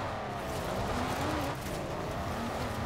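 Continuous engine roar of a 3-liter car in the racing game Forza Horizon 4, steady and loud, with a faint tire-squeal edge throughout.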